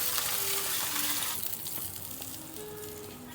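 Meat searing in a hot pan: a loud, broad hissing sizzle that gushes at first, then settles into a steadier, softer crackle, heard up close with no talking.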